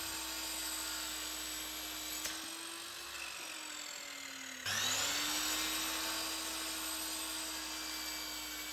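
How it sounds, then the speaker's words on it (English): A miter saw whines steadily at full speed while trimming angled corners off a firewood block for a joiner's mallet, its pitch dipping as the blade bites and rising again after the cut, loud and close. "Using the miter saw, I trim off these angles."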